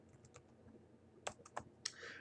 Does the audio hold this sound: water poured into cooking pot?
no